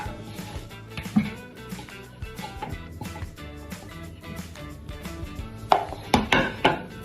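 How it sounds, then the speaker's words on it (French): A whisk or spoon stirring melted chocolate and butter into beaten eggs and sugar in a bowl, with steady scraping, clinking strokes against the bowl and a few louder knocks near the end. "Je viens ajouter mon chocolat, mon beurre."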